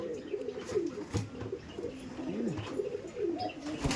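Giribaj pigeons coo in a low, rolling series of repeated calls, close by and fairly steady over a faint background, with a few soft rustles.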